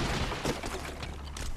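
Dense gunfire from a Resistance: Fall of Man battle, a sustained barrage of overlapping shots and bursts filling the scene at steady loudness with no clear gaps.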